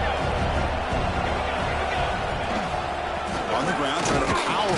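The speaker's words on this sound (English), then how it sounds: "here comes the noise. This crowd is trying to inspire this defense to make a big red zone stop." At a football game, a stadium crowd fills the air with a loud, continuous roar of noise to back the defense in the red zone, sustained dense crowd din throughout.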